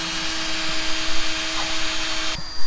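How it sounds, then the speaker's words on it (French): A drill bores through a metal angle bar for a custom solar-panel roof rack, giving a loud, steady, high whine with a constant pitch that cuts off abruptly just before the end. "on perce la cornière pour pouvoir la fixer sur le toit"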